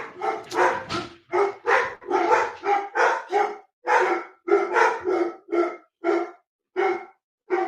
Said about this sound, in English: Let's just see if the dogs will stop barking.